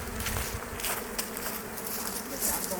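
Honeybees from a weakened, dwindling colony with an old, failing queen hum at their hive in a continuous close buzz, with individual insects swelling past now and then.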